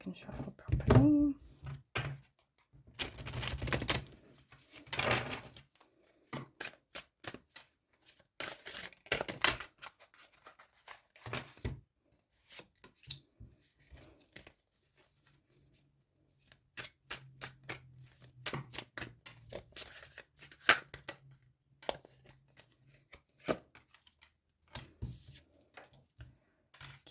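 Tarot cards being shuffled by hand, giving repeated papery riffles and soft thumps in irregular bursts, with some quiet speech and gaps between handling sounds.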